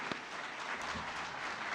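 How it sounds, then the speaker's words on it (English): Audience applause at a Groundhog Day economic forum: a steady wash of clapping from a crowd, moderately loud and continuous for under two seconds. "Let's give them one more round of applause."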